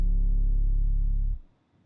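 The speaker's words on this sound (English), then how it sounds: "So without any Mangler, it sounds like this." 808 bass in an aggressive beat, played dry without distortion or saturation processing: a single deep, soft, sustained sub-bass note that holds steadily, then cuts off and decays into near silence.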